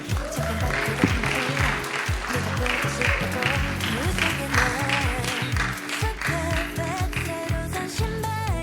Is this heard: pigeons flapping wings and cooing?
no